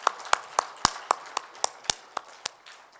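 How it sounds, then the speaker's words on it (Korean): In a church worship service, a small congregation claps in a slow, even rhythm, about a dozen sharp, distinct claps spaced roughly a quarter second apart that gradually fade toward the end. "하나님께 다시 한번 영광의 박수 올려드릴까요?"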